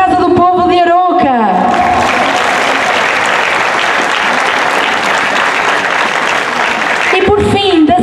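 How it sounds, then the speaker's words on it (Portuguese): Loud audience applause for a folk dance group at a folklore festival fills most of the span, starting after a brief burst of music and voices and fading as music returns near the end. "uma salva de palmas para o Grupo Folclórico da Casa do Povo de Arouca"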